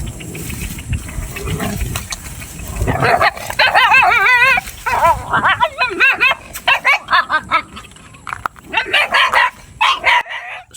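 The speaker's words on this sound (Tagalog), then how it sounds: "So nag-agresibo na yung aso guys, hindi ko talaga siya malapitan" An aggressive dog being rescued barks loudly and close in rapid yelping bursts, mixed with high whimpers and whines, the calls coming in quick irregular clusters over background noise.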